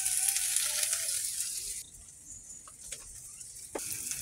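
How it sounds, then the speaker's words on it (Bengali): Green chillies and onions tossed into hot oil in a pan give a loud bright sizzle that cuts off abruptly, followed by quieter scattered crackles and a brief renewed hiss. "কাঁচা লঙ্কাগুলো দিয়ে দেবো।"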